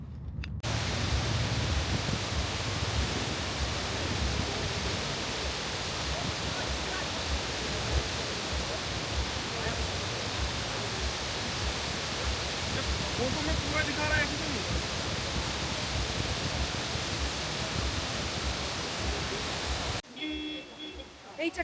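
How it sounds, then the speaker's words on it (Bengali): Drung waterfall near Gulmarg, Kashmir, roars as a steady, loud wash of broadband rushing water that fills the scene for about twenty seconds before cutting off abruptly, with no clear talk over it. "এইটা কিন্তু ড্রুম ওয়াটারফল"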